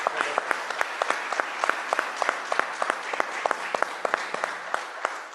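Audience applause at a panel on access to information and the right to truth, honoring a lawyer: many hands clapping in a steady, moderately loud patter, with a few sharp, distinct claps standing out near the front.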